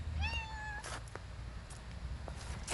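A ginger stray cat gives one clear, rising meow close by, followed by a quieter stretch of outdoor background with faint knocks.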